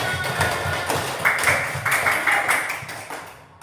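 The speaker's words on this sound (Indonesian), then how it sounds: "Ibu kasih tepuk tangan" Schoolchildren in a classroom clap in a patterned rhythm of quick taps, moderately loud and close, with some brief voices mixed in throughout.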